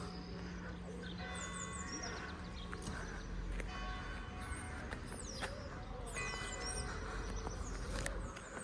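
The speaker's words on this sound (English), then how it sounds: "There goes the bells." Church bells ringing at a distance in the village of Vivonne, France, their tones hanging faintly over steady outdoor ambience with insects chirping.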